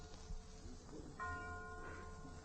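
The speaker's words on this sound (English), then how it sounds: "A church bell tolls in the distance." A church bell tolls once in the distance as a sound effect in an old-time radio drama. The ringing tone is faint and sustained over a quiet, hissy background.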